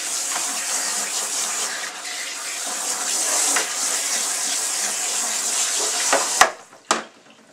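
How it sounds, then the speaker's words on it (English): Tap water runs steadily in a close, hissing stream while shampoo is rinsed from a hair system, then shuts off near the end, leaving a couple of brief clicks and drips. "I'm going to turn on the water again. We're going to rinse the shampoo off."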